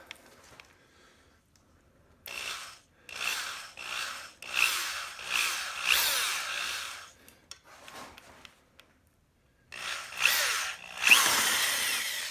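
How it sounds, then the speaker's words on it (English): A drill with a 7 mm bit runs in several bursts with short pauses between, grinding and rasping as it widens a hole in an aluminum Salsa Mukluk bike frame, loud and close. "Now I've got my 7 millimeter drill bit,"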